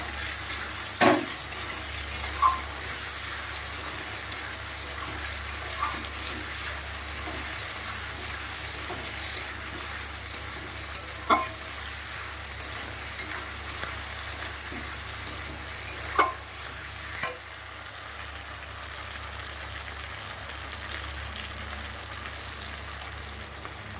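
Potatoes, tomatoes and onions sizzle steadily in a pan with a paste of ginger, cumin, coriander and whole dried chillies, while a spoon scrapes and stirs in a few sharp knocks against the pan.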